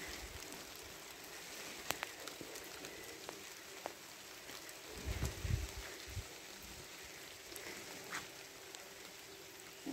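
Steady rain pouring down in a rural village, a dense even hiss with scattered drops tapping on surfaces, quiet and continuous throughout with a brief low rumble midway.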